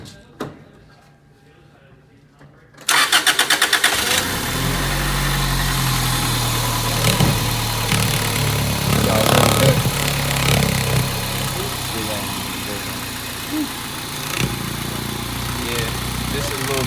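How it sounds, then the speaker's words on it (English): A car engine cranks and catches after a few quiet seconds, then settles into a steady, rumbling idle with vibration while someone talks nearby. "Start the engine."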